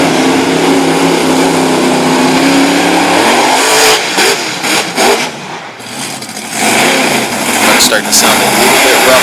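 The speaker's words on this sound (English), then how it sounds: "Something sounds like it's going away in the engine." A monster truck engine running rough at a Sarver, Pennsylvania competition roars and revs loudly close by, dipping briefly mid-clip before surging again, with a commentator talking over it.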